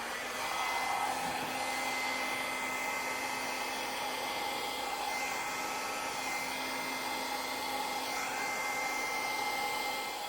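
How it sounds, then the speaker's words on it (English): A blow dryer blasts steadily across wet metallic acrylic pour paint, a loud, even rushing whine that holds unbroken for about ten seconds with no talking. "we can just let the blow dryer do the rest for us"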